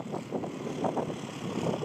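A New Holland TT3.50 49-horsepower tractor engine runs with a soft, steady pulsing throb, fairly faint and heard without any voices.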